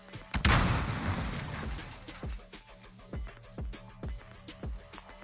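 A stun grenade detonates in the Call of Duty Warzone video game with a loud burst, followed by a string of sharp, evenly spaced thuds that slowly fade in loudness.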